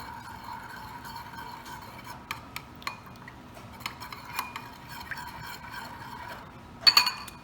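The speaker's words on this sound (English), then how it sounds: "we're going to just mix this all together here real quick" Granola ingredients with almond extract get mixed in a bowl, giving soft, scattered clinks and taps of a utensil against the dish, faint and irregular, ending in a brief louder clatter.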